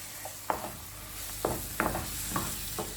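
Ground tomato is stirred into hot oil in a frying pan for an egg curry, with a soft steady sizzle and a few sharp spoon scrapes at irregular intervals, close and quiet with no voices.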